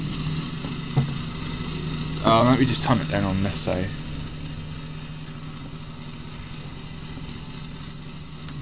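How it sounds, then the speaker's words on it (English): A lawn mower engine in a mowing simulator game, its blade damaged, holds a steady low idle throughout, with a brief swell and people talking over it early on. "Start the engine."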